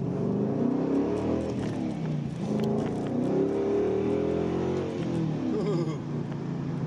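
An older Ford Mustang V8 with 4.10 gears, heard as a steady, throaty engine drone with gentle revving swells, close and continuous, with no talk over it.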